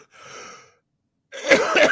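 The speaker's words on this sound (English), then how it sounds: "Going to be coughing throughout." A short, muffled cough followed after a pause by a louder, harsher cough burst up close.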